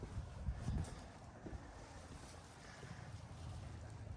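Outdoor wind rumbles steadily across the microphone during work on a vehicle frame, a low continuous blustery roar with a few stronger gusts and no talk.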